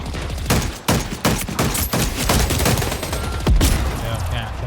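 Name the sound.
carbine gunfire in a video game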